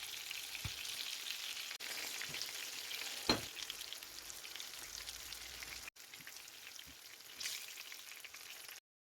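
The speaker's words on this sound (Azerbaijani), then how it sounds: "Yerdə qalanları da tavanın içərisinə yerləşdirib pişirirəm." Chicken fillet cutlets sizzle and crackle steadily in hot oil in a frying pan, with a few sharp pops and clinks along the way and no talking.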